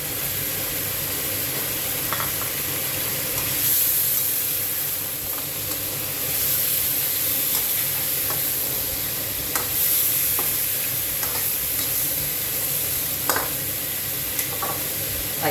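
Pork ribs and pork belly stir-fried with galangal and lemongrass in a hot pan, giving a steady close sizzle and hiss with scattered clicks and scrapes of stirring throughout, no talking.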